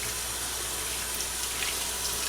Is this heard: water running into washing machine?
yes